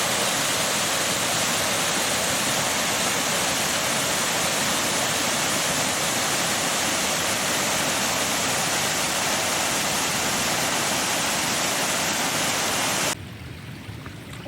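Water thunders down a waterfall on Skiddaw in the Lake District, a dense, steady, loud rush that holds unbroken before cutting to a quieter hiss at the very end.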